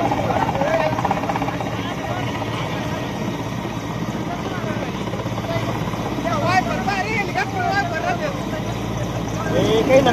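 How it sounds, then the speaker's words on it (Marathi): A rescue helicopter drones steadily overhead during flooding in Shevgaon, Ahilyanagar, a constant broadband rotor and engine roar lasting throughout, with faint voices mixed underneath. "पुरात अडकलेल्या नागरिकांची हेलिकॉप्टरच्या मदतीने सुटका केली जाते"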